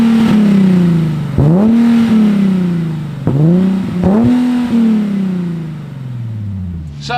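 A Ford F100 race truck with a swapped Nissan 370Z engine revs hard nearby, its loud engine tone climbing and falling through several throttle blips before settling back toward idle.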